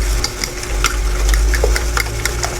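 Diced tomatoes and fine ground pepper being mixed in a bowl for a Filipino eggplant omelette, with soft repeated scraping and stirring strokes over a steady low hum, close and fairly loud.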